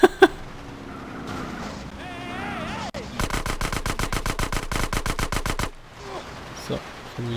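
Rapid automatic gunfire in GTA San Andreas, a loud burst of evenly spaced shots lasting several seconds, preceded by engine-like game noise and two sharp single cracks at the start.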